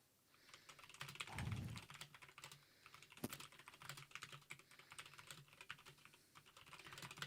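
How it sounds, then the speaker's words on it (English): Computer keyboard typing at close range, quiet irregular clicks and key taps in bursts, with a soft thump early on and a sharper key strike midway. "I'm back, so I'm just typing up something."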